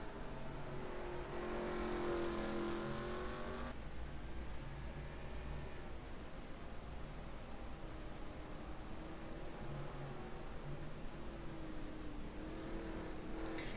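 Race car engines roar in a sim racing video game on a road course, a loud near car revving at first, then a quieter steady drone with distant engines rising and fading.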